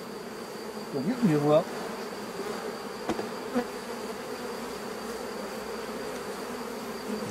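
Honeybees from a swarm buzz around a hive frame full of brood, a steady close hum with a brief louder burst near the start and someone speaking softly.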